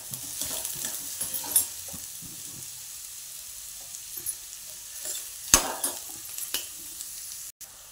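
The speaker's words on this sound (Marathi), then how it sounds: "कांदा परततोय आपण." Four chopped onions fry in a pan with a soft hiss, broken by close spoon scrapes and clinks against the metal at an uneven pace.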